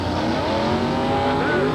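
A 1976 short bed Chevrolet truck roars through a stock-class mud race at an Indiana off-road jamboree, its engine loud and continuous with tires spinning and slinging mud, all steady and close.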